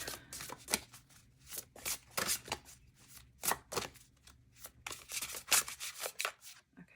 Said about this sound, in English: Heart Path Oracle deck, which is a little bit fun here to kind of shuffle